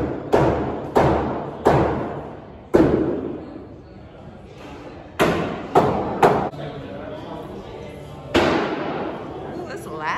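Thrown axes striking wooden targets at an axe-throwing venue, a series of sharp, loud thuds spaced irregularly, some in quick pairs, each with a short ringing tail in a reverberant room.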